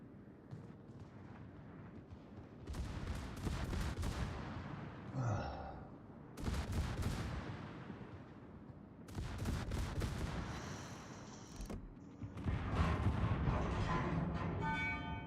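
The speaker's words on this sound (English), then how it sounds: "there goes my secondaries to firing." A warship's secondary guns firing in World of Warships, a series of loud booming volleys spaced a second or two apart with rumbling explosions between them, and little talk over them.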